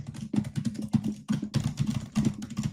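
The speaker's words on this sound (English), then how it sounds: "And Ari, can you type a little bit just so the people know how that sounds?" Fast, furious typing on a laptop keyboard, a dense close run of clattering key strikes in quick bursts with short pauses, loud and alone without speech.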